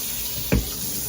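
Water runs with a steady hiss from a shower head infused with Phiten technology, broken once by a brief low thud midway.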